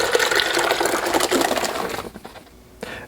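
Watermelon puree mixed with gelatin is poured into a big wok, giving a steady, close splashing pour for about two seconds before it stops with a small clink.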